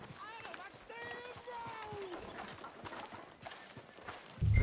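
Horse hooves clip-clop at a steady walking rhythm in the Red Dead Redemption 2 video game, close and clear, while characters talk over them and other game sounds play.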